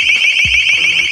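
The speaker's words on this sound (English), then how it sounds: "our alarm tone capability of this" An LRAD acoustic device sounds its alarm tone, a loud, piercing, steady high-pitched electronic tone with a fast, regular warble running through the whole stretch, while a faint low voice briefly murmurs beneath it.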